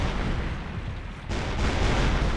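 Artillery rumbles in a World War 2 battle simulator game, a dense, roaring barrage of booms blending into continuous loud noise, with a sharp new blast breaking in midway.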